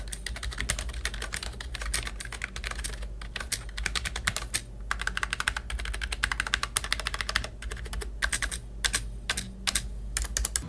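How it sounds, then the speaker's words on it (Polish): A4Tech Bloody B188 gaming keyboard keys pressed one after another in quick, uneven bursts of crisp clicks, close and clear, with no talking. "posłuchajcie, jak pracują poszczególne przyciski"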